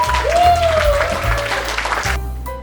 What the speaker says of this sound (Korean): 두 분 모두에게 여러분 큰 박수 부탁드리겠습니다